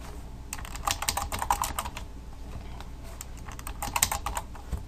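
Rapid typing on a computer keyboard, a quick run of close key clicks, pausing briefly in the middle and then resuming in short bursts.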